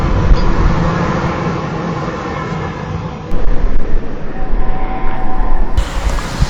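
A train departing, loud rumbling and clattering of rail wagons close by, swelling louder partway through and continuing steadily to the end.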